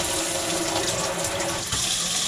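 Steady rushing water pours from a kitchen faucet in a 1973 Avion RV, a continuous bright hiss with a slight shift in flow near the end.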